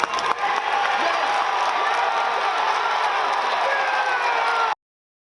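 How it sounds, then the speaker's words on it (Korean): A large political rally crowd roaring with cheers and applause, a dense continuous wall of sound that stays loud and steady before cutting off abruptly. "유세장은 곧 함성과 박수 소리로 가득 찹니다."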